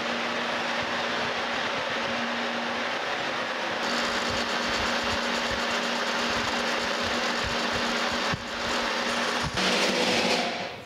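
Metal lathe cutting a new valve stem for a steam locomotive stoker engine, with the workpiece supported at the tailstock end. A steady mechanical whir and hum runs throughout, with a couple of brief clunks near the end.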